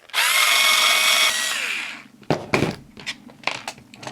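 A power drill spins up loudly for close to two seconds, backing screws out of a Tamiya Unimog gearbox, then winds down into a few clicks and small knocks as the parts are handled.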